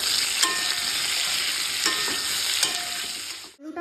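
Potatoes fry in hot oil in a home kitchen pan, giving a steady, close sizzle with a few brief stirring scrapes before it cuts off abruptly near the end.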